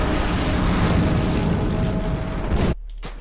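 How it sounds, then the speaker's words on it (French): In the PS2 game Medal of Honor: Rising Sun, a loud, rumbling explosion roars with a washing, splashing tail, then cuts off abruptly into near silence. "Grosse explosion et plouf."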